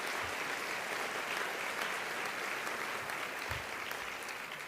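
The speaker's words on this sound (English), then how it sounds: "Let's give them a round of applause." Audience at the mayor's State of the City address in San Antonio clapping, a dense, even patter of many hands that stays fairly faint and unbroken, with a few low thumps.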